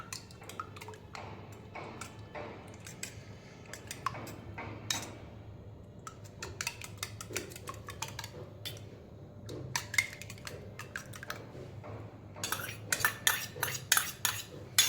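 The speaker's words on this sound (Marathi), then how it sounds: "दोन अंडी घेतली आहे त्या अंड्यांना फेटून आपल्याला यात मिक्स करायचं आहे" Two eggs whisked into a flourless oat and banana cake batter in a home kitchen: quick, uneven metallic clinks and taps of utensil on bowl, fairly quiet, growing busier and louder toward the end.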